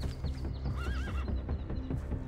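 Horses in a small meadow whinny in a close, quavering neigh, while hooves clip-clop around it throughout the short clip.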